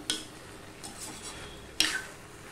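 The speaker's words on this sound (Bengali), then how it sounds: "এবারে আমি সব নেড়ে চেড়ে নিলাম, নিয়ে এবার আমি ঢাকা দিয়ে দেব।" Stirring a pot of vegetarian mixed-vegetable curry with a single tempering and no spices: a quiet spoon scrape followed later by two sharp metallic clinks against the pot, over a faint low background.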